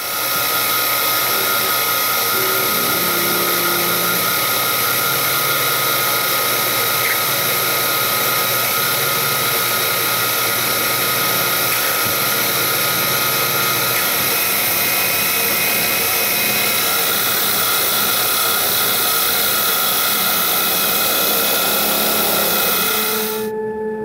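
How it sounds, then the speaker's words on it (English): A drill press or mill runs at a steady, loud, continuous whine for about 24 seconds, drilling tapped holes with a number 21 bit in metal for a lathe tailstock die holder, and stops abruptly at the end. "we just need to put in the holes with a number 21 drill for the tapped holes"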